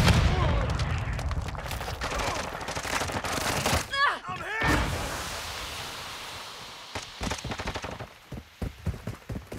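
Gunfire in the shooter game Call of Duty: Modern Warfare II: rapid, sharp shots crackle in bursts, loud at first and then sparser and more scattered toward the end, with voice-like sounds mixed in.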